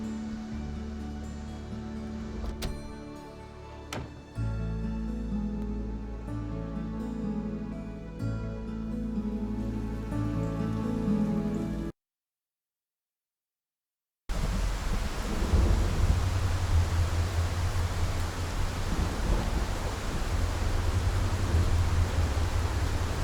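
A game storm in Taming Yore Dragon, with a steady downpour of rain and rolling thunder, breaks off into a brief silence before returning as a loud, dense wash of rain.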